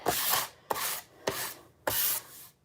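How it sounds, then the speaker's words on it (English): Four long scratchy strokes of hand sanding on wood, each separated by a short pause, close and moderately loud, with no voices. "I'm just bad at sanding the sides. I'm gonna do those by hand, I think."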